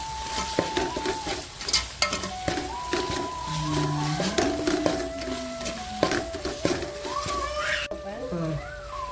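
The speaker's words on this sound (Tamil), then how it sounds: "தக்காளி நல்லா வதங்குது" Tomatoes sautéing in a pan for banana flower biryani, a soft frying sizzle with stirring clatter and utensil scrapes, while a person talks over the cooking and faint tonal squeaks drift in and out.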